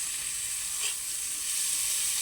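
Chopped onion frying with whole tempering spices in hot oil for a potato and egg curry, giving a steady, close sizzle and hiss that runs unbroken throughout with no talking.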